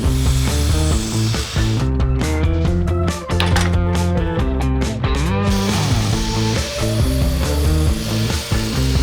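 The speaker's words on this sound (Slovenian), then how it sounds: "Začnemo tako, da tanke deske in kantni les odrežemo na pravo mero. To naredimo z vlečno zairalno žago." A pull miter saw cuts thin boards and squared timber for a garden bench, its loud whining blade and rasping bursts running steadily through the cuts with no voices.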